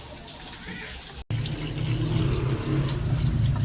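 Overripe fruit rinsed under a running kitchen tap, a steady broadband stream of water that grows fuller after a brief cut, close and continuous with no talk.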